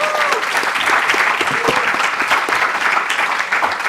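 Loud, dense applause fills the room at the grand final of The Pitch 2024 startup competition, a sustained wash of many hands clapping with no talk over it.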